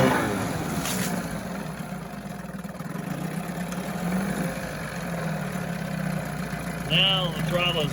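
A Johnson 9.9 outboard motor idles steadily after reassembly, a close, even engine drone running throughout with a brief faint voice near the end.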